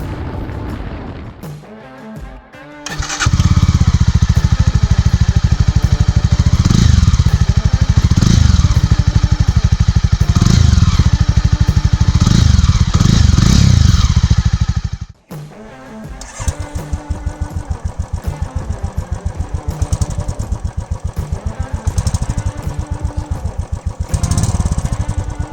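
A Royal Enfield Thunderbird 350 X motorcycle engine while riding: a loud, steady single-cylinder thump that holds for several seconds, cuts out briefly, then returns with a faster, harder pulse.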